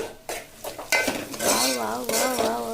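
Egg rice cooks in a pan while a utensil stirs and scrapes, with a sizzling fry and metal clinks throughout and a loud, close tonal voice-like sound over it.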